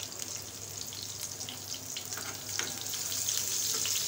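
Onion, garlic, curry leaves and round chillies fry in hot oil for a Punjabi kadhi pakora, giving a steady, moderate sizzle with no voices.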